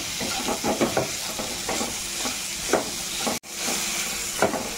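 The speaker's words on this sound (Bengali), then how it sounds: "সব কিছু দিয়ে দেওয়ার পর খুব ভালোভাবে মিশিয়ে এখানে কিছুক্ষণ জলপাই ভেজে নেব।" Olives frying in a pan with Kashmiri red chilli powder and spices, a soft sizzle and hiss broken by scraping stir strokes at irregular intervals, close by with no voices.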